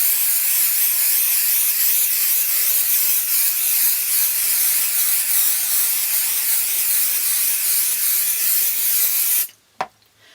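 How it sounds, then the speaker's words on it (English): An aerosol can sprays fabric adhesive onto a small quilt, producing a loud, steady, close hiss that runs unbroken for about nine seconds before cutting off, followed by a few short bursts. "So I'm going to spray my adhesive."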